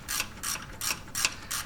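A ratchet wrench loosens the 14 mm starter mount bolts on a Jeep 4.0 liter engine, worked from underneath without a lift: five quick bursts of clicking, close and steady, with no talk.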